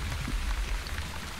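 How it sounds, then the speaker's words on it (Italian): Rain falling in The Wandering Village video game, a dense, continuous patter of drops on surfaces with a low rumbling undertone, steady and fairly loud. "Piove, vero?"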